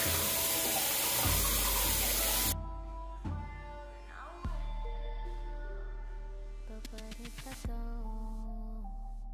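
Water runs from a tap into a sink for a couple of seconds while washing off a kale face mask, then stops, followed by quieter bathroom clinks and splashes.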